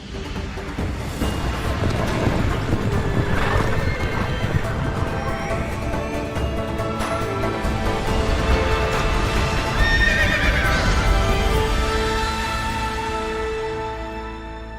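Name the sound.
galloping horses neighing, video game effect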